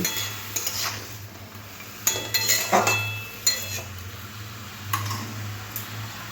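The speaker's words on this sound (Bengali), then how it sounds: "নুনটাও ভালোভাবে লাউর সাথে মিশিয়ে নেব" Salt being stirred into bottle gourd and prawns in a pan, a spoon scraping and clinking against the metal several times over a low steady hum, close and clear, with no voices.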